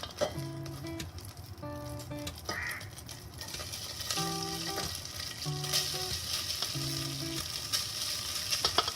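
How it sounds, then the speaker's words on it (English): Rice layered into a hot oiled pan for masoor pulao sizzles in a steady, fairly quiet crackle, with scattered clinks and scrapes and a few musical tones running through, no voices. "heat the pan, and I have added little bit of oil so that the rice does not get stuck to the bottom, and layer the rice."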